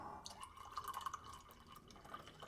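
Fresh percolated homemade coffee is poured into a cup, giving a faint, thin trickling stream with small drips, quiet and close with no talking.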